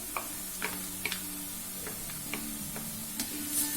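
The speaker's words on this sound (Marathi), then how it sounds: "आता आपण आलं लसूणला 1 ते 2 सेकंद फक्त परतून घेणार आहोत तेलामध्ये।" Ginger-garlic paste and finely chopped green chillies fry briefly in hot oil, a bright sizzle broken by repeated light taps and scrapes of a spoon stirring in the pan, with no speech.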